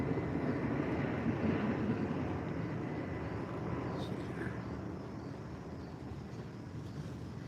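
Airplanes pass overhead near a home, a steady distant engine rumble that slowly fades as it carries on.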